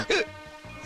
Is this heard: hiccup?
yes